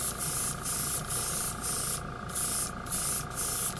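A paint spray gun hisses in short, regular bursts, about seven pulses in under four seconds. An air compressor keeps a steady hum running underneath the whole time.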